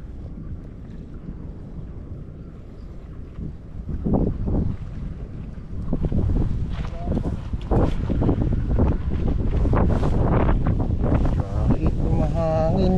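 Wind buffets the microphone on a fishing boat on a pond, a constant low rumble that grows stronger halfway through, while someone talks over it.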